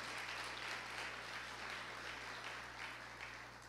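A church congregation applauds in a steady, continuous spatter of clapping, faint and distant, above a low constant hum.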